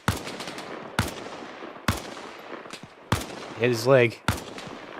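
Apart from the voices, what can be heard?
gunfire from the enemy on a hill, video game Arma Reforger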